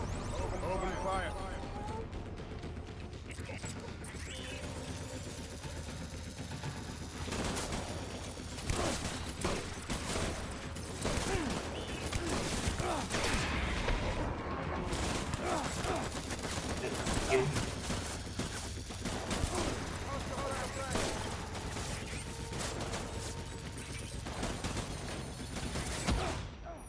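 Death Stranding gunfire runs almost without a break as dense rapid bursts and scattered shots over a steady rumbling backdrop. Voices speak now and then under the shooting.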